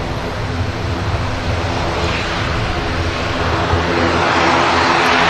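An Airbus A320neo-family airliner departs Manchester Airport for Amsterdam, its broad engine roar steady and loud throughout, swelling slightly toward the end with a rushing hiss.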